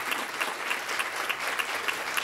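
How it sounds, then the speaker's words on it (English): An audience at a panel discussion at a theatre education conference claps for the panelists, a dense, even burst of applause from a crowd throughout. "I'd like to everybody to give a round of applause for our panelists"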